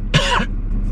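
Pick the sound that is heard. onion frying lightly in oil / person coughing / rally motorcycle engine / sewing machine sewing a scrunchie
person coughing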